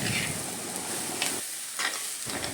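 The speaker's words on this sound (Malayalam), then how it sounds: "അതിനുശേഷം നന്നായിട്ട് ഇതെല്ലാം കൂടെ ഒന്ന് ഇളക്കി യോജിപ്പിച്ച് കൊടുക്കണം" Long beans stirred through coconut oil in a pan for a Kerala payar theeyal, giving a steady sizzle with a few scraping strokes, close and fairly loud, with no one speaking.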